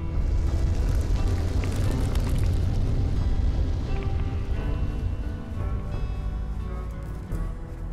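Rumbling artillery fire and explosions in the real-time strategy game Bannermen, a dense, continuous booming roar that stays loud throughout and eases slightly toward the end, with no voices.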